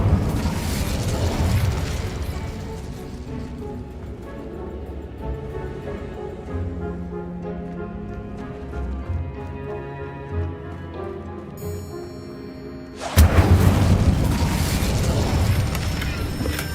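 Incendio fire spells blasting in Hogwarts Legacy, heavy booming eruptions rolling over a sustained musical bed, with a sudden loud surge of fiery noise near the end.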